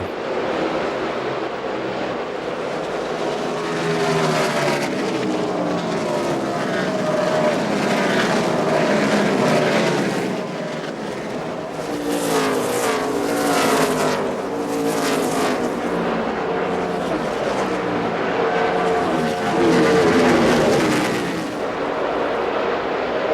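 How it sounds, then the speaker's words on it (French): NASCAR Busch Series Chevrolet race cars roar around the Milwaukee track in the AT&T 250, a loud continuous engine drone that swells as cars pass, with race commentary heard beneath it. "La Chevrolet de Joe Gibbs, pilotée par Denny Hamlin."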